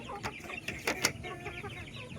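Native heritage cross chickens give a few short, close clucks over quiet farmyard background, with no talking.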